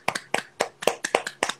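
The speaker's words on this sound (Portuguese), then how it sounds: "Eu queria tirar esse pequeno momentinho da nossa conversa para a gente aplaudir a Carlinhos, que Deus o tenha." A short burst of applause from a small group, with distinct clusters of claps coming in uneven waves, fairly close and with no voices.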